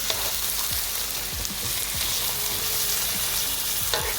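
Steak sizzles steadily in hot oil in a pan, a bright continuous frying hiss with occasional crackles and soft scraping knocks, no talking.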